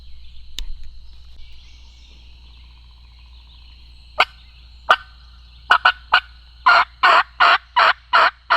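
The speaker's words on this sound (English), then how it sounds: "I just heard one gobble straight that way." Wild turkey gobbling in Mississippi woods: a single faint call, then a string of loud, close gobbling bursts in quick rhythmic succession, with no talk.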